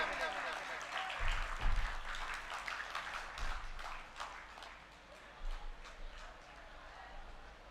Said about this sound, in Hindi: आप जितनी तालियां बजाएंगे पहलवान को उतनी ऊर्जा मिलेगी।